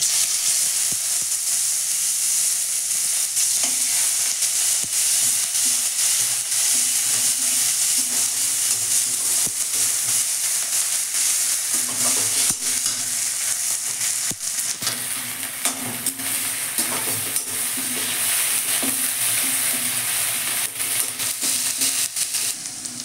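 Onion paste frying in a hot pan for a prawn curry, a steady loud sizzle and hiss with scraping stir strokes running continuously underneath.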